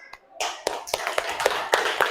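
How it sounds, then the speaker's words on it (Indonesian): Group 1 gets a round of applause in a classroom: a short, close burst of clapping hands with sharp individual claps standing out. "Terima kasih buat kelompok 1, tepuk tangan dulu."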